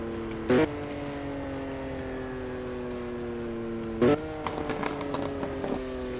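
A heavily tuned BMW G82 M4 CS slowing from high speed, its engine droning steadily as the pitch falls, with two brief loud blips from downshifts and rushing wind noise.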